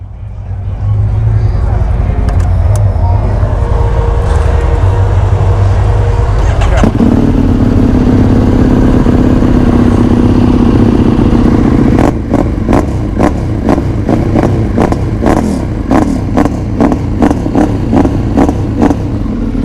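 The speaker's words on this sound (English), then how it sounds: "I'll fire it up so you can hear the V-twin motor." EBR 1190RX motorcycle with a V-twin engine, recorded at an outdoor bike night, fires up and runs loud and close, its engine note rising as it holds steady, then breaking into sharp repeated bursts as it is blipped, over crowd noise.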